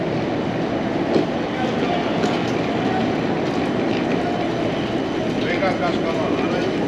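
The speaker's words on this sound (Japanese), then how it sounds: "私の列車が来ました。" A train in Bucharest, Romania rumbles steadily alongside a platform, a loud continuous roar with faint rail clatter and occasional squeals, and a voice speaks briefly.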